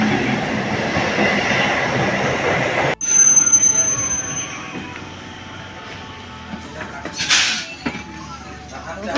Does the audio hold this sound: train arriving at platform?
yes